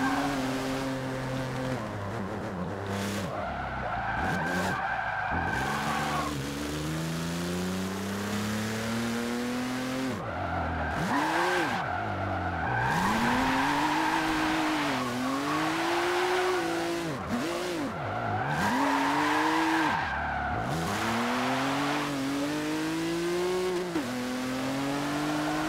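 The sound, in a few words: car drifting with tire skids in video game Forza Motorsport 7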